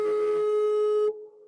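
A real tuning fork sounding alone, a pure steady tone with bright overtones that fade after a moment, leaving a softer sustained ring, clear and close.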